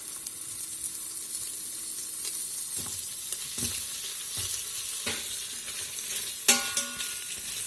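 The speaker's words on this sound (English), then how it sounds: "We're going to let this sausage saute here a few minutes until it's just got some color on it, browned up a little bit." Sausage sautéing in olive oil in the bottom of an Instant Pot, a constant bright crackling sizzle close up, punctuated by occasional sharp pops and clicks of spatters and stirring.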